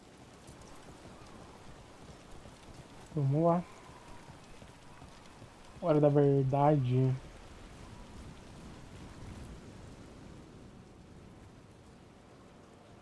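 Steady rain falls in a video game, Dragon Age: The Veilguard, a soft continuous hiss throughout, with two short bursts of talking over it.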